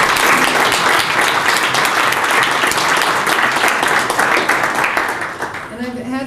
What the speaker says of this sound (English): Can we give the folks at that table a round of applause?